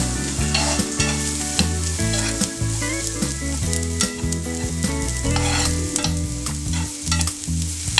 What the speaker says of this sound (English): you want to saute this really well